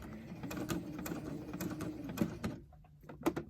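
A sewing machine stitches a center seam on a fitted fabric face mask, running in a rapid rattling burst for about two and a half seconds, then pausing before a few short clicks, close and fairly quiet.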